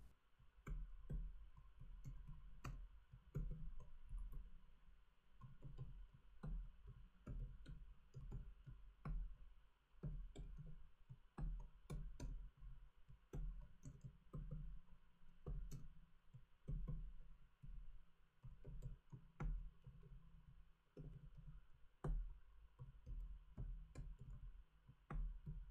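Computer keyboard being typed on at a desk, soft, quick, irregular key clicks in a steady stream, faint and close.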